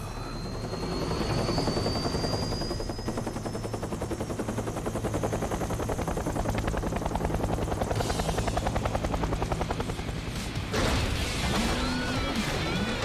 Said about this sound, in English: I'm preemptively pissed off by those helicopters.